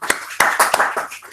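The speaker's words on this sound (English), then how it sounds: "Just want to give a clap for her." A group claps for a teacher at a life-skills training session for teachers, a few loud bursts of applause rising and fading in quick succession over about a second and a half, with no talk over it.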